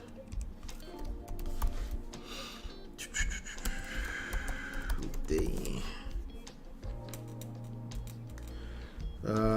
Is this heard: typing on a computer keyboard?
yes